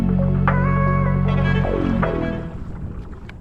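A Bixpy J-2 electric outboard motor pushes a Blackfin XL inflatable stand-up paddleboard at mid speed, giving a loud, steady, close-up drone with wind and water noise that fades near the end.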